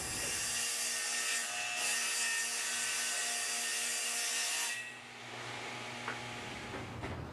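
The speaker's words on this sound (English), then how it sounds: "So let's go ahead and get the panels cut down to their final size first" A table saw cuts wood panels down to final size, giving a loud, sustained whining roar of blade and workpiece that drops off near the end into a quieter running hum with a few small knocks.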